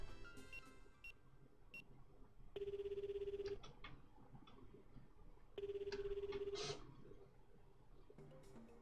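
A telephone rings in the dating game Kita e: White Illumination, two clear electronic ring bursts about three seconds apart, each roughly a second long, over quiet background music with soft beeps.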